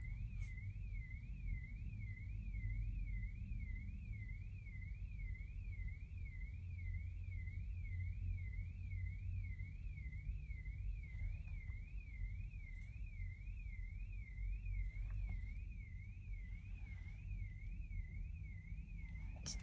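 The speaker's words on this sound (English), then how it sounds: "now we have somebody's car going off." A car alarm sounds in a parking lot at a Lidl, its rapid warbling siren cycling steadily and unbroken at moderate distance over a low rumble of background traffic.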